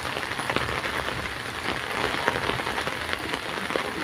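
Heavy rain pouring down in Warangal's Mahabubabad area: a dense, steady hiss of falling water with scattered sharper drop impacts, loud and continuous throughout, with no voices.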